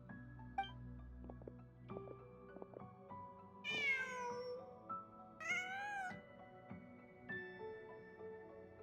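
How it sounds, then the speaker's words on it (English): A cat in the video game Genshin Impact meows twice in clear, drawn-out calls over quiet game music and ambient tones, followed by a softer third call near the end, with no speech. "Huh. Just a cat."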